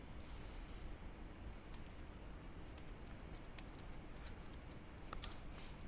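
Keystrokes on a computer keyboard while searching for a customer in an admin panel, a quiet run of light, irregular clicks over a steady background hiss, with a brief cluster of sharper taps near the end.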